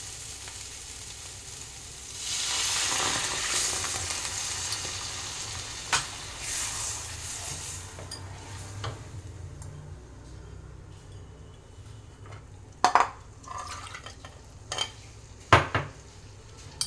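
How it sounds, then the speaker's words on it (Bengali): Hilsa malaikari cooking in a pan with salt and turmeric, stirred with a utensil: a steady sizzle and frying hiss with occasional scraping and clinks of metal against the pan, close and fairly loud, no talking. "নুন হলুদ দিয়ে আরেকটু নাড়াচাড়া দিয়ে নেব।"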